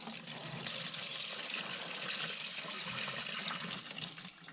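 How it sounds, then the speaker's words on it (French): Fuel pours into a jerrycan during a misfuelling repair, a continuous hissing, splashing liquid stream that holds steady throughout at moderate level with no speech. "verser dans le bidon"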